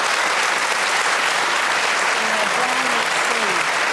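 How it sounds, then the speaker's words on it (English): A studio audience at a televised panel discussion claps in a loud, continuous, dense round of applause, with faint voices audible underneath near the end. "the people were clapping then"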